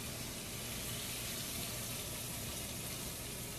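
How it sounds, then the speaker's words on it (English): A whole bottle of marinara sauce is poured into a hot pot of walnut meat sauce for vegan cheesy macaroni, producing a steady wet pour and gentle sizzle, soft and close, without talking. "To this, I'm gonna add this whole bottle of marinara sauce."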